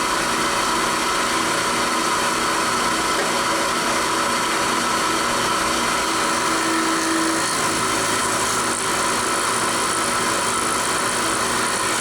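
Machine tool in gear, slowly cutting with a 1/8 inch cutter, a constant loud motor hum and whine with high tonal ringing, steady throughout without pauses or talk.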